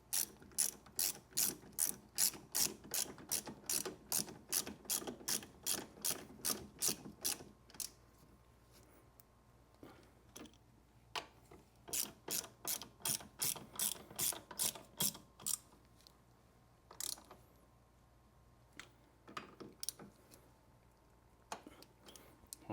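A ratchet tightens two 15 mm bolts on the rear brake of a Can-Am Outlander ATV, with crisp rapid clicking in two long runs and scattered single clicks between them, close and clear with no talk.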